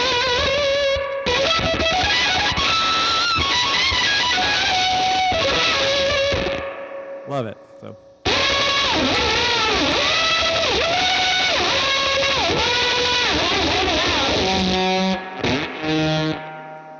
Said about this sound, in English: You're getting a lot of grime from the light pedals tails there.